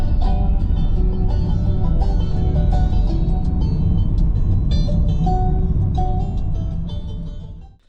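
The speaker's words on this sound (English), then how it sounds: "now I'm going to drive into Betsycoed, get some lunch" A car driving through wet, windy North Wales gives a loud, close, steady engine and road rumble from inside the cabin, with faint rattles, fading near the end; no one speaks.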